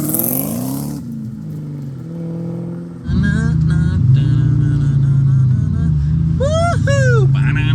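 A Ford Mustang Terminator Cobra's engine revs loud and close, first a short rising note, then a quieter stretch, then a strong sustained roar with quick throttle blips that climb sharply near the end.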